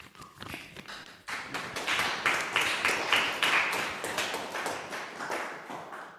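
An audience claps after a poetry reading: scattered taps build quickly into warm, sustained applause from a small room, then gradually thin out.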